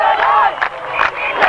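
A stadium crowd cheers at a night rugby match between Italy and Lebanon, flags waving in the stands; a continuous loud roar of many voices surges in several waves across the moment, with a commentator speaking over it.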